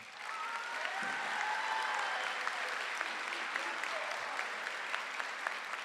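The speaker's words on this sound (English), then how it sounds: "I think we should give her a round of applause right now." An audience at a high school graduation ceremony breaks into sustained applause, a dense, even wash of many hands clapping at moderate distance that holds steady throughout.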